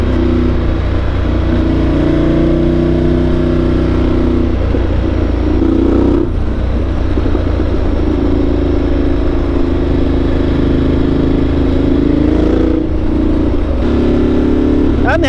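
A Ducati Multistrada 1200 Enduro adventure motorcycle's engine drones loud and close as it accelerates and holds under throttle, with brief dips where revs shift before pulling again.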